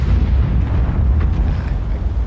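A deep, sustained artillery boom from a World of Tanks shell being fired, loud and close, with a long low rumbling tail and no talking.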